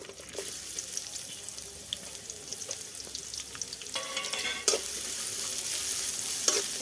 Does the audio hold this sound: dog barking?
no